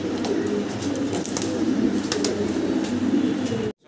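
A pair of large house pigeons coos steadily and close by, a soft low rumbling call running continuously for several seconds before cutting off abruptly near the end.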